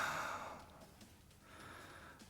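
Faint breathing on a phone line after an answering machine beep, with a soft exhale followed by a quieter inhale, low and muffled.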